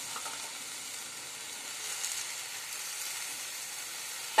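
Spinach sizzles in a frying pan, a steady, even hiss of frying at moderate volume with only faint stirring and no voices.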